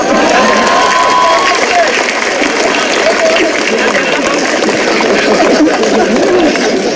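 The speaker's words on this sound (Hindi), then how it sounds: "और अब आपकी तालियां उठेंगी" Audience applause and cheering fill a comedy stage show, a dense steady roar of clapping with crowd noise running loud and continuous throughout.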